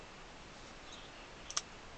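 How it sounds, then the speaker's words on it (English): Scissors trimming valves on a restored 1930s Pancotti accordion's reeds, two quick faint snips close together near the end of an otherwise quiet stretch. "So I'm going to go around all of my valves and just trim them up."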